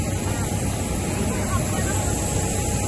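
Airplane noise at an airport in Patna just after landing, a steady broadband engine roar filling the scene without pause, with faint background chatter of people mixed underneath.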